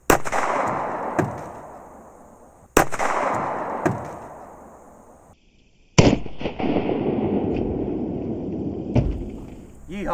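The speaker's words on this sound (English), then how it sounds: "This is the Polycase ARX out of the Glock 17." A Glock 17 fires Polycase ARX rounds, with sharp, loud, close reports followed by long decaying echoes. Two shots come about three seconds apart, then a third. Talk is heard between shots.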